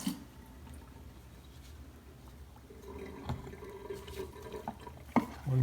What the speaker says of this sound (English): I'm just gonna rinse the stone off here real quick